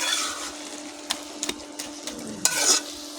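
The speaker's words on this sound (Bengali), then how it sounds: "আবার আমি ভালো করে নেড়ে দিলাম। নাড়তে হবে, থেতো করতে হবে।" Cabbage curry is stirred and mashed in a pan, soft scraping strokes and a few sharp spoon knocks over a low sizzle, close and moderately quiet, with no talking.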